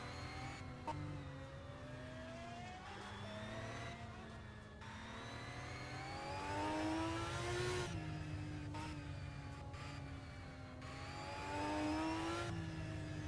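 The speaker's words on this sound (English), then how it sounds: "a bit of an aggressive downshift there for Lounger" A race car engine in a racing game at about 170 mph screams loudly and continuously, climbing in pitch through the gears and dropping sharply on aggressive downshifts, with no voices over it.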